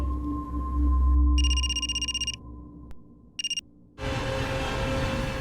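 A phone rings with a rapid electronic trilling pattern, pauses, then a short burst of ringing again before a louder background noise takes over.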